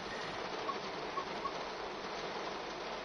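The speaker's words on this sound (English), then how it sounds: "And we're in the pouring rain." Steady pouring rain in the train simulator game Train Sim World 3 hisses as a dense, even wash of noise, loud and unbroken for the whole stretch with no voices.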